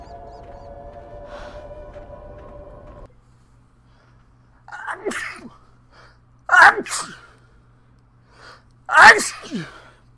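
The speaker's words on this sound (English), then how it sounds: "I hate sneezes that hurt." A person sneezes three times in a row within a game-playing session, each sneeze a sharp, loud burst close to the mic, following a few seconds of steady background hum.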